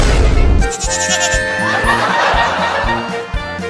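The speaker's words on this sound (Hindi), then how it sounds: "ये तो बड़ा ढीठ बकरी का बच्चा है, भाग ही नहीं रहा।" A young goat kid bleats over a rhythmic, thumping comedic background track, its wavering cry loud and near.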